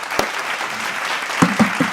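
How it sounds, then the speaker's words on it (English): An audience claps for a guest being welcomed onto an artist talk show, a steady broadband wash of applause with a few louder individual claps near the end, no talking over it. "Let's give him a round of applause."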